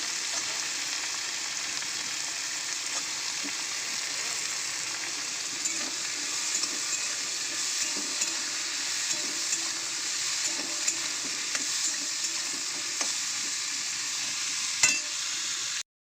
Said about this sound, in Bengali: আগে উচ্ছেগুলো দিয়ে একটু লাল লাল করে উচ্ছেটা ভেজে নেব।